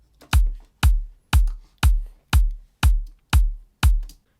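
Eight punchy layered kick drums, an Ibiza-style kick stacked with a high-end kick, hit in an even rhythm, each with a sharp clicky attack and a booming low tail.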